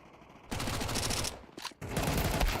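Automatic gunfire during a Counter-Strike esports match, dense rapid bursts at close range with a brief pause midway before the firing resumes, loud and without talk.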